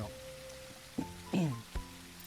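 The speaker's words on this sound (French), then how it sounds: "Là, on a des fortes pluies." Heavy rain in the video game Terryx forms a steady hiss throughout, with a few short thuds and brief tonal game sounds rising above it.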